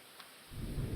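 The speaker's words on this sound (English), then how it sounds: "It's starting to rain." Rain begins falling in a stormy night scene, a soft hiss swelling into a steady, louder patter over the second half, with no voices.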